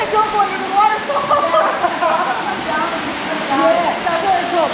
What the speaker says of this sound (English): It's going to go under the waterfall.